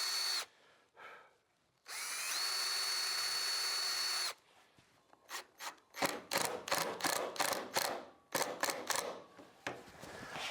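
A power drill pre-drills holes in a timber door panel for a pedal car build. It gives one steady, close whine of about two seconds, then a run of sharp mechanical clicks and knocks.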